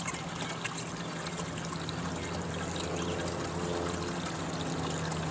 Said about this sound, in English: you're going to want to see the water's flowing much faster than on most of the recovery or small sluices